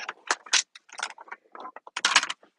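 Die cutting machine feeding cardstock through its rollers, a string of close, irregular mechanical clicks and grinding scrapes in short bursts, with a louder cluster near the end.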